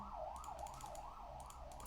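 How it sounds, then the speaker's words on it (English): A wailing siren rises and falls steadily in the distance, faint and continuous, heard alone. "the sirens outside."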